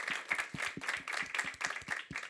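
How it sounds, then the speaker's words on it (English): An audience at a cannabis research institute launch event claps in a quick, regular rhythm, crisp hand claps sounding close and evenly spaced, with no voices over them. "Clap it up."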